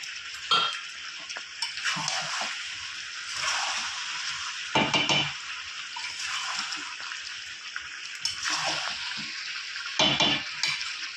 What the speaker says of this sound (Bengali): ভালো করে কষানোর পর আরও কিছুক্ষণ আমি আবার কষাবো